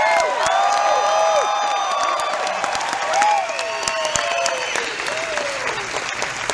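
Dense, sustained applause from a large audience at a motivational seminar, steady and loud throughout, with a high whistling tone and a voice speaking over the clapping.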